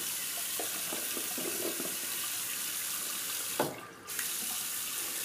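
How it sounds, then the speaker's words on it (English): Tap water running steadily into a sink while hands are rinsed, a continuous hiss with a brief splash and interruption partway through, close and fairly loud, no speech. "Just going to rinse my hands off."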